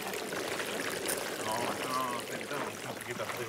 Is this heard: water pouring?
yes